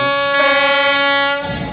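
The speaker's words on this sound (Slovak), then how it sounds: "Motorový rušeň Hektor nám krásne zatrúbil." A Hektor diesel locomotive sounds its horn at a locomotive display on a turntable in Bratislava, one loud, sustained, steady chord blast that cuts off after about a second and a half, with no talk.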